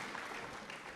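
Audience applause, a dense continuous patter of clapping hands heard faintly and evenly across the brief moment.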